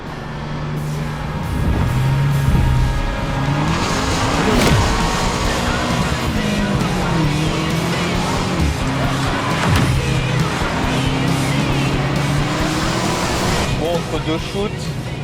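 A BMW M5 G90 driving, with a steady engine note and road noise that shifts in pitch as it accelerates and eases off, heard from inside the car while a person talks over it.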